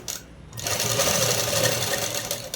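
A sewing machine runs steadily, stitching cloth in one continuous whirring burst after a brief pause, loud and close with no talk over it.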